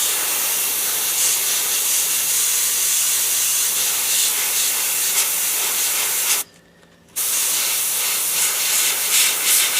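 A steady, loud hiss from an Avanti airbrush spraying paint runs continuously, stopping for a brief gap before resuming, close by with no voices.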